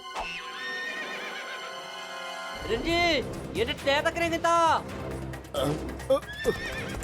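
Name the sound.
horse neighing in a cartoon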